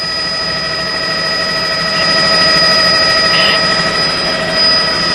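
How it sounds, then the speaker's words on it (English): Steady rotor and engine drone from a news helicopter hovering above a police standoff scene in DeSoto County, Mississippi, a continuous loud mechanical hum with no talk. "WMC Action News 5's Justin Jaggers live from Chopper 5"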